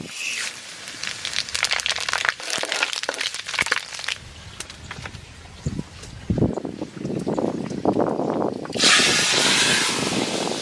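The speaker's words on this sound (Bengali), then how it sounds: "সর্ষের তেল খিচুড়িতে ফোড়ন দেবো শুকনো লঙ্কা আর পাঁচ ফোড়ন আগে দিয়ে দেবো" Mustard oil with dried chillies and five-spice hisses and crackles in a hot pan for Bengali khichuri, a steady close sizzle with sharp popping bursts that swells louder near the end.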